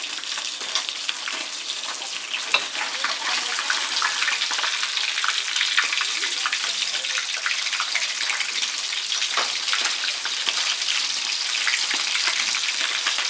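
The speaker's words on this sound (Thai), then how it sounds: "แล้วก็เอาหัวทอดต่อนะครับ เพราะว่าหัวมันจะ อาจจะยังไม่สุกนะฮะ ทอดต่ออีกแป๊บหนึ่ง" Fish heads deep-frying in hot oil for a Mekong River red tilapia stir-fry, giving a steady, dense sizzle and crackle that runs unbroken and fairly loud throughout, with no talking.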